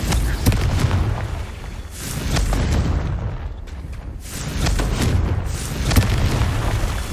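Fiery Confringo spell blasts in the Hogwarts Legacy wizard game, with several deep booms and bursts landing one after another over a dense, rumbling combat background, loud and close.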